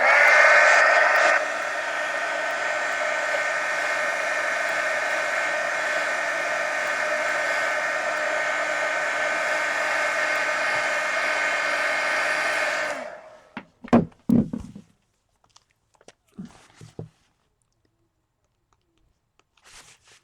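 A hair dryer blows steadily over a mixed media collage card for about thirteen seconds and then switches off, followed by a few faint clicks and handling noises.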